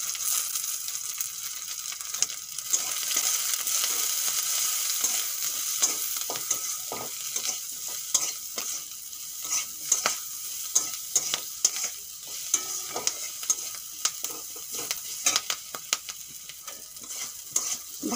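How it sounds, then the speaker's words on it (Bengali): Stuffed bitter gourd fries in an oiled pan, a continuous close sizzle with frequent sharp scrapes and taps of a spatula stirring and turning the pieces, growing busier toward the end, no talking. "ভাজা হয়ে গেছে, এখন তুলে নেব।"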